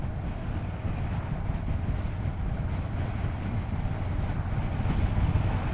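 Wind buffeting on a Honda NC750 motorcycle ride on a windy day, a constant low roaring rumble with steady turbulent rushing and no speech.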